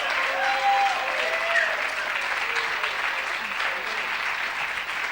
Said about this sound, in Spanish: les renovamos el aplauso a los chicos integrantes de la Red Bioca